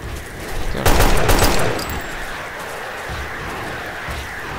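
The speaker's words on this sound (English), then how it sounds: "Surface to air missiles. That's that noise." In Delta Force: Xtreme 2, surface-to-air missiles launch with a loud, hissing roar that swells for about a second, then fades into a steady rushing drone.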